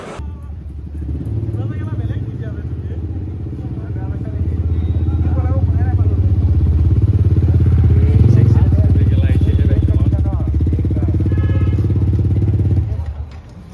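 A motorcycle engine idles and revs steadily at close range, a low throbbing rumble with a voice talking over it.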